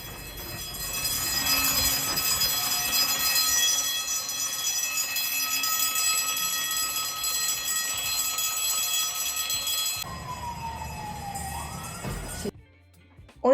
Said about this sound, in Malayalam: അത് കുടിച്ചിരിക്കുമ്പോഴാണ് ഫയർ അലാറം അടിക്കാൻ തുടങ്ങിയത്.